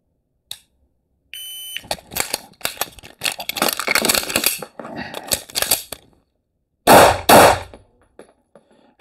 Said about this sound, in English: So I have to go tap rack, lock the slide, mag out, 2 times rack, new mag in, rack, shoot.